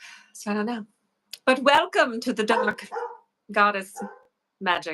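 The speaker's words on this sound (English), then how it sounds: "so the dog is barking." A dog barks in several sharp bursts at home, heard clearly and close, mixed in with someone speaking during the pauses.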